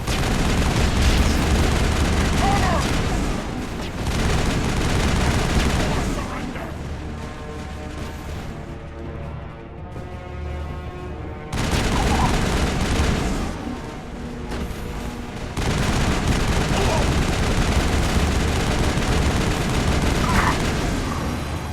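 Gunfire in the Mass Effect video game, dense loud volleys and booms that continue for long stretches, broken by a quieter lull midway before the shooting resumes.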